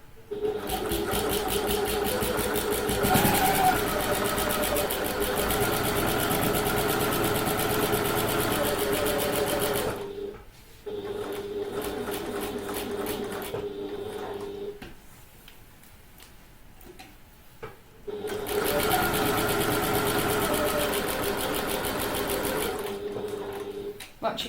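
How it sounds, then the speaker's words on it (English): Sewing machine basting around the edges of a handbag at a quarter-inch seam allowance, running in long steady bursts with a brief pause and quieter stretch midway, loud and close. "I'm going to sew around all of the edges"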